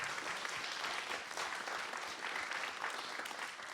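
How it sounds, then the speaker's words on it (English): A conference audience at a house of worship, during an annual peace conference, gives a long, even round of applause for the speakers: many hands patter together in a dense, continuous rush heard from a distance, with no single clap standing out. "So please give all of them a round of applause."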